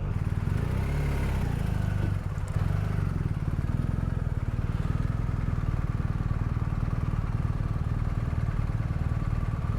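Steady motorcycle engine drone while riding along a road, continuous and close with constant wind and road noise, no talking.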